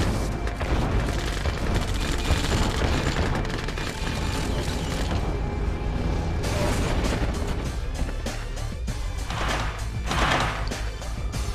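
Sustained gunfire and explosions in a Command & Conquer Red Alert 2 battle as an ore miner comes under attack, dense continuous bursts and booms filling the whole stretch at a loud, steady level.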